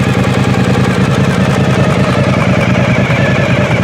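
A Suzuki DL1000 V-Strom motorcycle with a Holeshot aftermarket exhaust idles steadily up close, making a loud, even, throbbing rumble with no revving.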